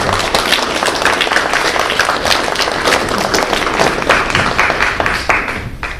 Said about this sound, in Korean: 우리 나오실 때 우리 박수로 우리 환영하십시오.